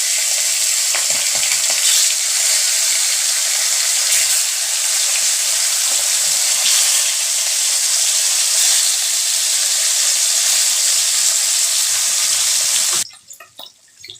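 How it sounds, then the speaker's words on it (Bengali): Fish pieces rubbed with salt and turmeric fry in hot oil, a loud, even, close sizzle roaring for about thirteen seconds before cutting off to quiet, with no voices. "একে একে মাছগুলো আমি দিয়ে দিচ্ছি,"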